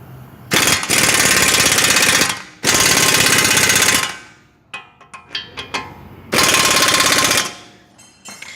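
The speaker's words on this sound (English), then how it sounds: "we're going to go ahead and tighten up the caliper because we just hand tightened it" A power tool tightens the brake caliper bolts on a 2001 Toyota Tacoma in three loud, close bursts of rapid hammering, each lasting one to two seconds, with clinks of tool handling between them.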